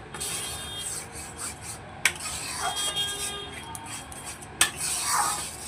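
A spatula scrapes and rubs ground spice paste and chilli powder around a pan in repeated gritty strokes, with a couple of sharp knocks against the metal, close and quiet with no talking.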